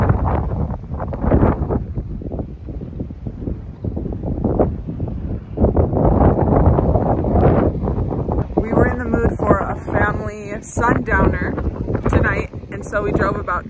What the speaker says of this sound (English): And it's very, very windy, but it's beautiful.